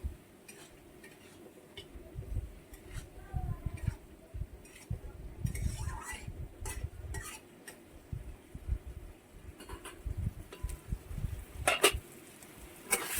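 Potatoes and spices stirred in a pan on the stove, a spoon scraping and clinking against the metal in irregular strokes at moderate volume, with a faint sizzle beneath.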